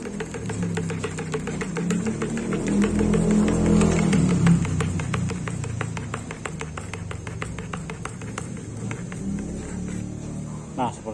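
Pink paint for repainting a Vespa Primavera is stirred in a container, making a quick run of rhythmic scraping ticks under a low background hum, with a voice talking.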